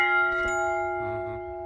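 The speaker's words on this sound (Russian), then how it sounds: "вот тут колокол какой-то" A bell hung in a botanical garden at Clemson University, South Carolina, rings with one clear strike whose steady tone sustains and slowly fades, and a brief faint knock follows partway through.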